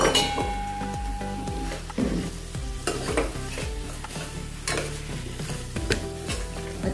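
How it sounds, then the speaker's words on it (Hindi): A spoon stirs soybean and potato pulao in a hot pan close up, with repeated scraping strokes and light metallic clinks over a steady sizzle. "अच्छे से मिक्स कर लेंगे अभी।"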